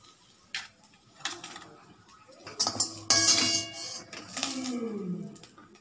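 Sautéed ridge gourd peel being scraped from a pan onto a plate, with sparse metallic clinks and spoon scrapes building to louder clattering bursts near the end, close and without talk.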